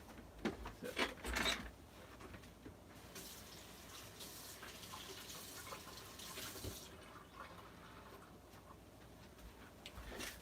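Leftover bright green tie-dye liquid poured into a container, a steady splashing trickle of liquid running for several seconds with a louder burst near the start, close and alone without talk.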